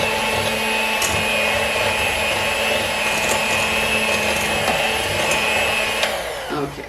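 Electric hand mixer creaming brownie ingredients in a bowl, a steady motor whine running continuously and fairly close, with no talking over it.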